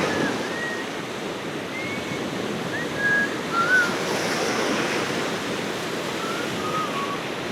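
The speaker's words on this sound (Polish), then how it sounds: "Wydaje mi się, że ta fala jest trochę za duża, nie?" Sea waves breaking on a shore, a steady roaring wash of surf with wind buffeting the microphone and a few faint high calls, likely seabirds, drifting in and out.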